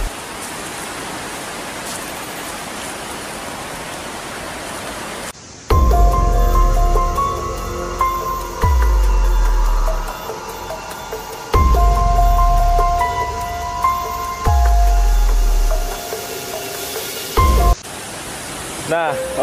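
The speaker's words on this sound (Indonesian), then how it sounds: "nah itu sangat deras sekali aliran dari sungai sini ya" A strong waterfall flow roars as a continuous broadband rush. Gusty low rumbles of wind buffeting the microphone break in and out, and a voice is faintly present.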